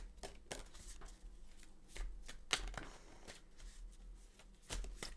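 Green Witch Oracle cards being handled and shuffled up close, a steady run of crisp riffling snaps and soft paper slides with a few sharper flicks, quiet and continuous with no talking.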